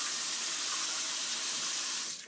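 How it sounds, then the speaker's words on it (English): A household sink drains after being unclogged, giving a steady, close rush of running water that holds for about two seconds and then tapers off at the end. "as you can see, our sink is draining now"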